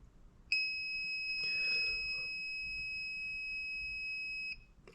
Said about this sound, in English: We're going to wait for it to beep, indicating that our oven has heated up the tube.